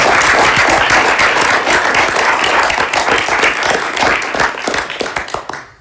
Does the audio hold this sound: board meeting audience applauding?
yes